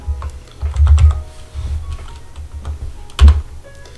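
Password being typed on a computer keyboard, a burst of close, uneven key clicks with a couple of louder presses and no talking.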